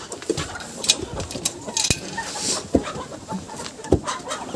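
Chickens in a backyard poultry yard where ducklings and turkeys are also kept: scattered clucks and sharp squawks pop out close by over a busy rustling background, with no talk.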